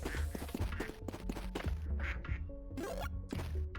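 Ducks in the Duck Factory video game give a rapid run of close, overlapping quacks mixed with thunks and knocks, busy and continuous throughout.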